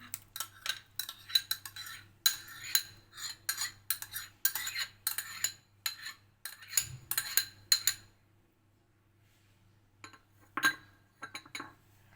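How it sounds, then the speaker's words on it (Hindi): A spoon clinks and scrapes rhythmically against a bowl while yogurt and other ingredients are mixed, a run of sharp close taps for about eight seconds, then a pause and a few scattered clinks. "अब हम इन सब इंग्रेडिएंट्स को एक बाउल में मिक्स करेंगे।"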